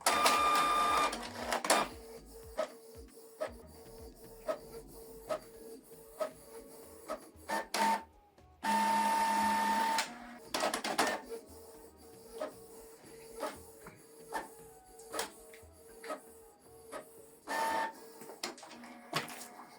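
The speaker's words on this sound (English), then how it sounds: "We scanned, saved it, and printed it out double-sided." A Canon TR4750 inkjet printer printing a double-sided document: rhythmic mechanical clicks and whirring carriage passes, with short motor bursts and paper-feed pauses, close and alone.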